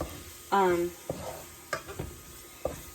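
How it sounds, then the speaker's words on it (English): Spices toasting in a pan for a vegetarian three-bean chili are stirred, a short sizzling burst followed by several brief scrapes and soft taps, close and quiet with no talk. "we're going to toast the spices and cook this here for about a minute, stirring"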